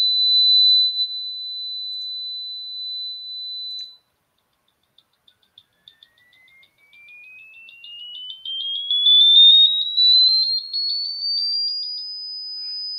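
Piezo buzzer test tone: a steady high whine, then a short gap with faint clicks, then a pure tone climbing smoothly in pitch to about 5,000 hertz, growing louder near the top.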